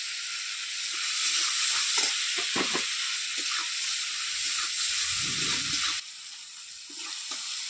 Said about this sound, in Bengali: ভালো করে টমেটোটা ভেজে নেবো যাতে টমেটো গন্ধ না আসে।